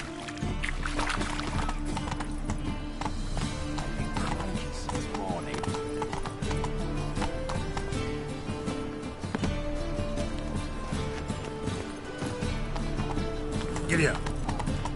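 Hoofbeats of a horse galloping in a video game, fast continuous clip-clop rhythm under music and ambient game sound, loud and close throughout.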